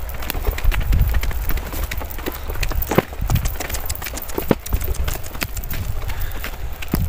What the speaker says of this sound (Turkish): Şu anda böyle eşeğin üstünde gidiyoruz.